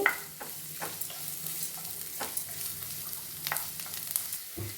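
Chopped onion frying and being stirred in a pan for restaurant-style chicken manchurian, with steady sizzling and several scraping stirs of the spatula, close and fairly loud with no talking.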